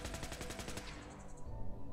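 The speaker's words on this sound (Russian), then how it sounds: "а нет, это выстрел" A gunshot in the video game Fallout 4: a loud, sharp burst at the start followed by a rapid train of repeated bangs, with a long ringing tail.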